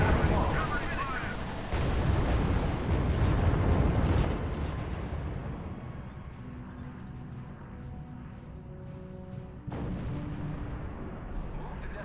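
Sustained battlefield gunfire and explosions from the strategy video game R.U.S.E., with dense overlapping bursts and booms, loud and continuous, easing slightly midway before swelling again.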